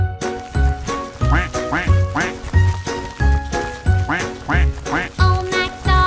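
Cartoon ducks on a children's farm-song track quack in a steady, rhythmic run of loud, close calls over a bouncy beat, each quack evenly spaced, with no talking.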